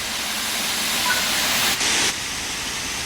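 Steam locomotive in Train Sim World 3 taking power as its regulator is slowly opened, giving a broad continuous hiss of steam that swells briefly louder midway, then settles back to a steady rush.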